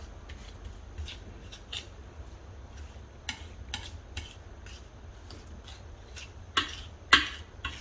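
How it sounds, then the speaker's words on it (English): A spatula scrapes and taps around a cake pan while pineapple upside-down cake batter gets spread, with light intermittent clicks and scrapes, two sharper knocks near the end, over a quiet low hum. "we want to smoothen this mixture around the entire pan here."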